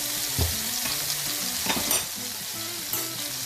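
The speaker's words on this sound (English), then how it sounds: "So we're going to throw the shallots in. And we're going to throw some garlic paste in." Shallots and garlic paste sizzle in a hot skillet, a crackling fry with a few louder spatters and stirring scrapes, close and steady with no voices.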